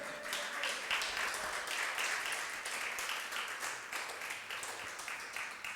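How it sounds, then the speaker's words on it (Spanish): A church congregation applauds together, a dense, steady wash of clapping that fills the whole stretch at even loudness with no clear pauses. "¿Cuántos dan un aplauso al Señor?"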